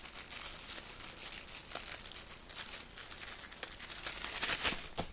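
A paper warranty booklet being pulled from the packaging of a Motorola TLKR8 walkie-talkie set, giving steady close crinkling and rustling for several seconds, louder near the end, with no talking.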